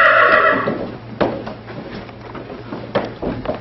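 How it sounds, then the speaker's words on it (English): A horse neighing sound effect plays on stage during a high school play, a loud whinny at the start followed by a series of clopping knocks and thumps. "Giddy up, Bessie."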